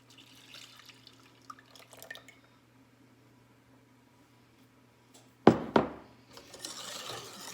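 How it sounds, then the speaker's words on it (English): Milk pours into a custard mixture in a kitchen: a faint liquid trickle, then a brief, sharper splash and pour, with soft clatter around it. "Now just add the rest of the milk."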